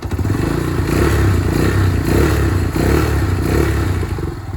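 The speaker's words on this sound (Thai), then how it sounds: "แต่พอพอเวลาเราเร่ง มันก็จะดังนิดนึง ลองฟังนะครับ" A Honda Phantom 200 motorcycle engine revs loud and close, a steady, rough, throbbing roar that swells in a few pulses with no talk over it.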